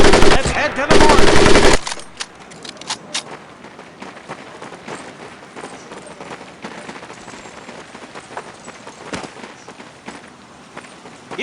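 Automatic gunfire in the World War II shooter game Medal of Honor Pacific Assault: a loud, dense two-second burst, then scattered distant shots and footsteps.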